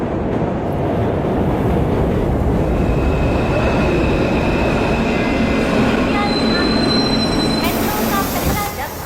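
A metro train runs steadily and loudly close by, with rumbling wheels on the rails, a high squeal and a constant roar; the noise cuts off sharply near the end.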